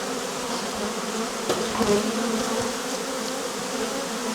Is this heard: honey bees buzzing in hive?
yes